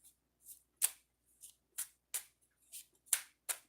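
Oracle cards riffle and slap in a series of soft, crisp bursts, about ten short shuffles spaced irregularly, close and quiet against near silence.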